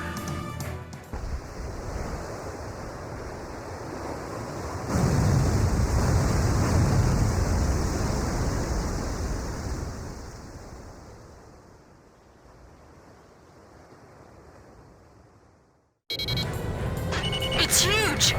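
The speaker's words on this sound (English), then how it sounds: "The Synfaxi's surfacing! It appears to be damaged!" A huge damaged submarine surfaces from the ocean in Ace Combat 5: a loud rushing wash of churning water and surf that swells, holds, then slowly fades to near silence, with a voice breaking in at the end.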